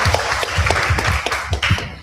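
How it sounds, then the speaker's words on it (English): Audience applause at a university festival day, a crowd clapping with distinct rhythmic slaps and low thumps mixed into a steady clatter, moderately loud. "Please, a round of applause to Mr."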